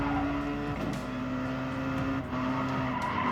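Car engine whining steadily with tyre skids and scraping in God of War gameplay on a PlayStation 4 Pro, a continuous close synthetic drone with a brief dip near the end, no talking.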